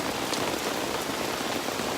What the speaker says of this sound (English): it's pretty cool hanging out in the rain in the middle of the woods though